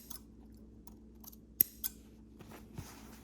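Scissors snip clips into a fabric seam allowance while sewing, a few sharp, close clicks spaced irregularly over quiet background.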